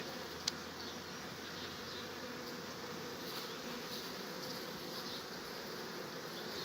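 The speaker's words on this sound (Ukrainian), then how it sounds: "І це, кстати, які класні спокійні бджолки. Бакфаст." Buckfast honey bees buzz steadily at an open hive, a dense, even hum of many insects that stays constant throughout, with one brief faint click and no voices.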